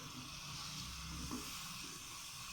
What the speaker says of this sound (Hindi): मिर्ची हल्की सी फ्राई हो गई हैं।